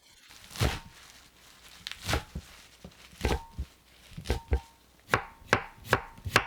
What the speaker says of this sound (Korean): 참나물 줄기 끝 지저분한 부분을 싹둑 잘라 버리고 4cm 길이로 잘라 준비합니다.